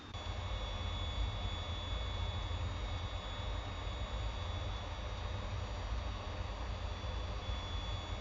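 F-22 Raptor jet engines in a flight simulator at Tenzing–Hillary Airport, Lukla, a steady loud broadband roar with a constant high whine throughout, no voices.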